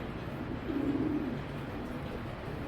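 Club racing pigeons kept for sale cooing softly, a low murmuring coo rising briefly near the middle against a steady background hum, no talk.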